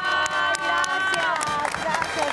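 Theater audience at a Mexico City stage production of Perfume de Gardenias applauds and cheers for actress Elizabeth Álvarez, a dense, steady wash of clapping with scattered shouts and whistles throughout.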